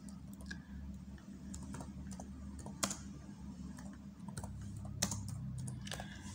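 Soft keystrokes on a computer keyboard while text is typed into a Microsoft Visio diagram, irregular quiet clicks with a couple of sharper taps over a faint low hum.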